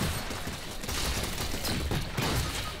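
Dense gunfire and blasts from grenade explosions in the video game Fortnite, a steady loud barrage of overlapping shots with no pause across the clip.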